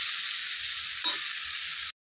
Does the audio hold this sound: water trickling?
no